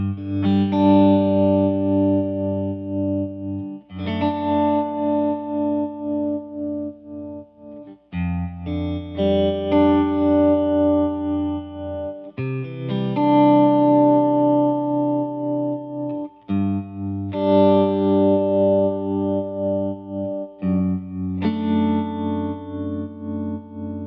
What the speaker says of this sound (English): We're going to start with this nice tremolo.